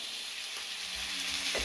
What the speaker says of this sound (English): that nice sizzle when it's adding to the pan